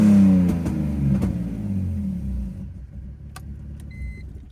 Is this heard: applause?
no